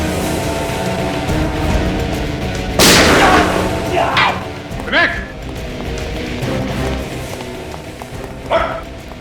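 A gunshot fired during a tense confrontation in a Hindi TV crime drama, one sharp loud burst cutting through a dramatic music bed, followed by a few fainter sound-effect hits.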